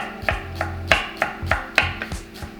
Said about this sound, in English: We want to mince the ginger nice and fine.